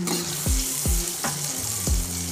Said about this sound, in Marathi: तेल थोडंसं तापलं की त्यामध्ये बटर टाकून घ्यायचं आहे.